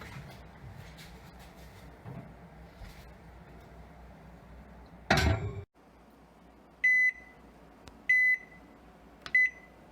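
A kitchen oven's control panel gives three short, clear beeps spaced about a second apart after a loud thud of the door closing, in an otherwise quiet room.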